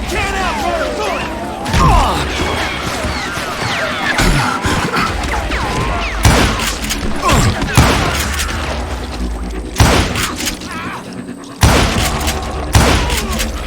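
Gunfire in the Western shooter Call of Juarez: Gunslinger, with loud shots and crashing impacts repeating irregularly through a busy battle mix of music and effects.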